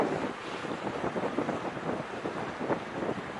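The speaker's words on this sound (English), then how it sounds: "Is it always this windy out here?" Strong wind buffets the microphone in continuous gusty rumbles outdoors in Guyana, with a roar like surf or open water and no talking.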